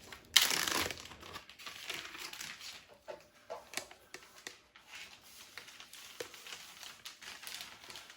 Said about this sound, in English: now I'm going to put it in a bag, and this is a 1 gallon bag